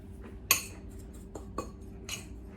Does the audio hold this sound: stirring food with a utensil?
yes